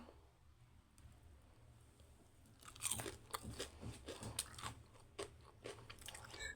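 Crisp crunching bites into fried potato pakora, several sharp crunches followed by chewing, close to the mic with no talking.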